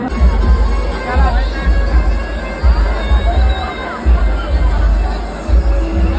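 A dense, loud crowd at the Chinchpokli Chintamani Ganpati pandal in Mumbai during the Ganesh festival, a constant babble of voices with shouts and cheers rising over a booming low throb.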